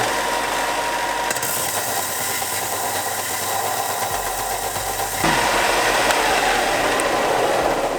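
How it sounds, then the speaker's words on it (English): A belt sander grinds a metal turbo flange flat, giving a continuous close rasping roar that steps up louder after about five seconds, with no talking. "over to the belt sander to sand it off flat-ish"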